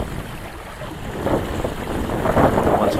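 Wind gusting and building while sailing a boat, with rushing, buffeting microphone noise over low water and hull rumble, growing louder toward the end, no talk.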